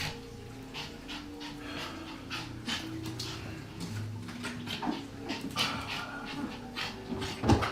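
A dog pants rapidly and close by, with a steady rhythm of quick breaths broken by an occasional soft whimper, and no one speaks.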